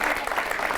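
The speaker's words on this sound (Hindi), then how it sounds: "जरा जोरदार तालियां" Brief burst of audience applause at a comedy poetry show, dense clapping from a crowd heard close and fairly loud, with a faint voice mixed in.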